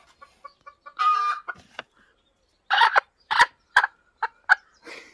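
Chickens in a farmyard next to a cattle shed, giving a run of short, evenly spaced clucks, then louder, longer squawking calls in separate bursts with short pauses between them. No talk.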